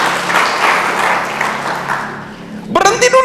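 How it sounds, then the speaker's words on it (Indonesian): A church congregation cheers and applauds loudly for about two and a half seconds, dense clapping thinning out before a voice cuts in at the end. "Yuk kita beri sorak-sorai dulu deh bagi Tuhan"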